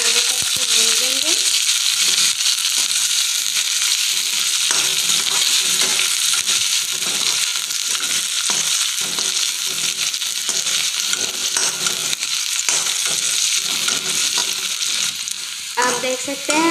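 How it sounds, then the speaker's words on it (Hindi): Onions fry in a pan after cumin, a loud dense sizzle holding steady from start to finish, with frequent stirring clicks and scrapes against the metal. "प्याज को हल्का ब्राउन होने तक भून लेंगे।"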